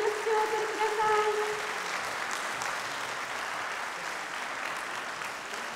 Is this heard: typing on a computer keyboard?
no